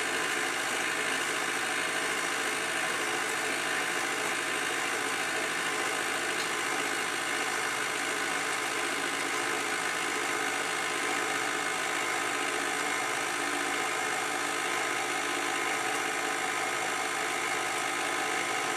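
Electric mixer running at a lower speed while mixing chocolate oat snack cake batter, a steady unbroken whir and hum that holds an even level throughout without pause.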